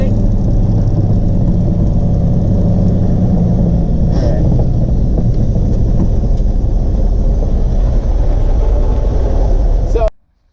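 A 1984 Kenworth C500 truck engine runs after its first start in 20 years, with a drive shaft vibration. It makes a loud, steady, close rumbling idle under people talking, then cuts off abruptly at the end.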